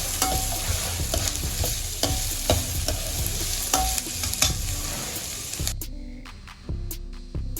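Onions and green chillies sauté in a hot pan with a steady sizzle and repeated scraping stirs of a spoon, close and loud, before the frying quiets abruptly near the end.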